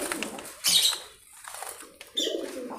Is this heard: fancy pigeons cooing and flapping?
yes